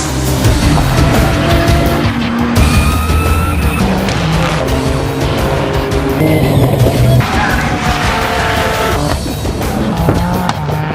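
A GT3 race car driven hard at Silverstone, its engine loud and close throughout, with gear changes and throttle surges, tire squeal and skidding tones under the roar.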